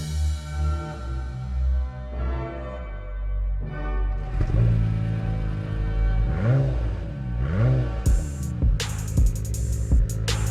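A 2017 Acura NSX hybrid supercar, 573 horsepower, revving up in rising and falling sweeps, loud and close, with sharp bursts near the end.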